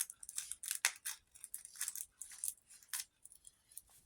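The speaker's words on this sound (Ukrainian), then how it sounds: "Ось цей наш просто геніальний пакетик. Відкриваємо його." Paper crinkles and tears in quick, irregular bursts as a paper surprise packet is opened close up, with no talking.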